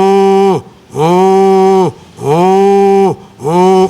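A man imitates a cow with three long, loud, close mooing calls, each a drawn-out tone separated by brief pauses.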